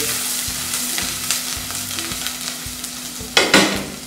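A mixture is stirred quickly in a hot pan, with a spoon scraping and tapping at a steady beat over a low sizzle, ending in a louder burst of frying near the end, with no voice.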